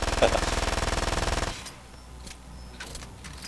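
A gun emptying its magazine in Far Cry 2 video game, firing a rapid, evenly spaced burst of loud shots for about a second and a half, then a few faint scattered clicks and thuds.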